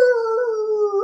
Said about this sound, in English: Now I got this freaking howling dog next door.